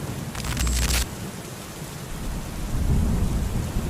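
Heavy falling rain with rumbling thunder, a loud crack of thunder early on and another deep roll later, over a constant hiss of rain with no voices.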